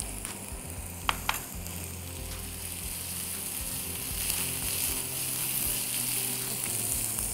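Chopped shallots and onion fry in a pan with paneer, a continuous close sizzle broken by a couple of sharp clicks of a utensil.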